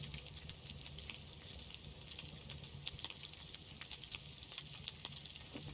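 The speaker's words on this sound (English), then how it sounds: "you keep on doing it until you find that your steaks are now cooking" Steaks cooking over a campfire in the survival game Scum, a faint, steady sizzle with a soft crackling hiss running continuously throughout, quiet and without any voices.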